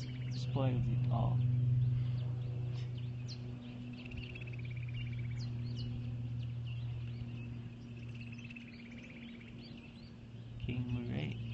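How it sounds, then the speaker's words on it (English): Birds sing in the trees at sunrise in Nairobi, Kenya: scattered high chirps and short calls, fairly faint, over a steady low drone from a passing plane. "the trees down there have so many birds"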